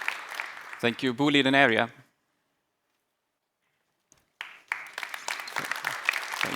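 An audience in the Boliden area joins a Boliden tech walk session and breaks into applause after a brief speech and a pause of silence, the clapping running under renewed talk.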